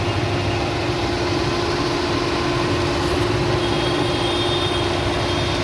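A Suzuki Alto car engine idles with a cool engine, giving a steady, low, even hum that holds unchanged throughout, close and fairly loud, with no voices.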